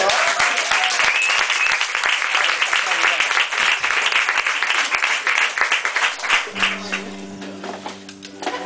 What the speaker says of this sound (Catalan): Aplaudiment, no?